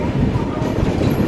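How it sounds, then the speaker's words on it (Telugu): Superfast express passenger train starting out of Nellore railway station on the Tirupati to Visakhapatnam–Bhubaneswar route, a steady dense rumble of wheels and carriage noise, close and continuous. "నెల్లూరు రైల్వే స్టేషన్ నుంచి అయితే మన ట్రైన్ స్టార్ట్ అయిపోయింది"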